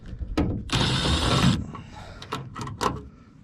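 Ratchet clicking in short bursts while backing Torx screws out of a Chrysler taillight housing, a sustained rasp followed by several separate clicking strokes, close by with no talk.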